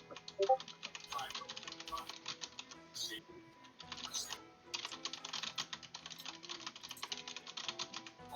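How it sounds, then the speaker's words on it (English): Several people type on computer keyboards during a tabletop role-playing game night, a steady patter of clicking keys with faint room chatter and voices in the background. "as people are still typing up"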